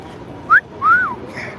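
Two short whistles from a person nearby, a quick rising chirp followed by a longer, arching tone, clear against a quiet background.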